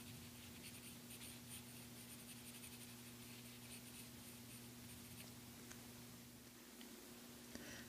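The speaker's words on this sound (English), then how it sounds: "The shading is a little darker up by the eyebrow." Colored pencil shading on paper with a sienna brown pencil, a faint, continuous scratchy rubbing of the lead heard close up, with a few small ticks and no voices.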